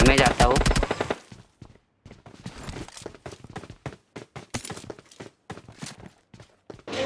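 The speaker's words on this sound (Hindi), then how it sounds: "मेरे को पीछे से थोड़ी सी फायरिंग पड़ती है" Gunfire from behind a player in the mobile battle royale PUBG Lite, heard as a loud burst of sharp shots at the start, then scattered quieter pops and distant shots over faint background game sounds.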